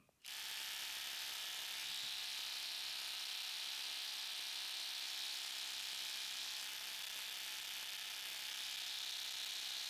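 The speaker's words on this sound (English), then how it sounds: "Kobalt Gen 2 running the 4 amp hour ultimate output." A Kobalt Gen 2 cordless impact driver on a 4 amp hour battery starts abruptly and runs with a steady, loud, high-pitched whir for the whole stretch, with no voices.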